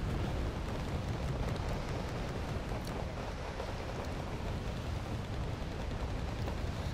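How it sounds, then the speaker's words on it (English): Dense, continuous rumble of distant artillery fire and bombing runs in the strategy game Wargame Red Dragon, a steady low roar of overlapping explosions with no distinct single blasts and no voices. "Just constant artillery, constant bombing runs, constant Barantinos"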